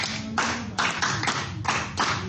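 Children clap their hands in several short bursts with brief pauses between, close and fairly loud, in a classroom Bible-story session.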